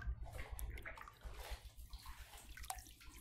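Shower water runs in a horror video game, an uneven gurgling and splashing stream with soft knocks and drips, fairly quiet and with no voices.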